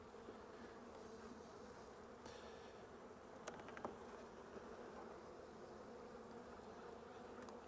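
Honeybees hum and buzz continuously around an opened hive during an inspection, a soft steady drone close by with a couple of brief clicks and knocks, no voices.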